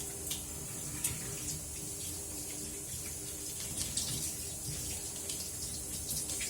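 Water runs from a tap while potatoes are washed, a faint, steady stream with light splashes and a few soft knocks, fairly distant and unaccompanied by speech.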